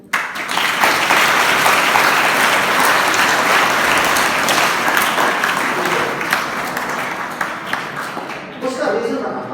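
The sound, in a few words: audience applause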